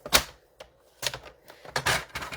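A paper trimmer blade slicing through cardstock, with three or four short, sharp cutting strokes and small clicks between them, close and fairly loud with no talking.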